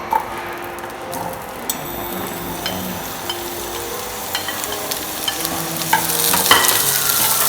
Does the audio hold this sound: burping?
no